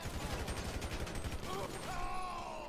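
Rapid gunfire in Grand Theft Auto 5, a dense rattling burst of shots up close that thins out midway, with voices talking over it.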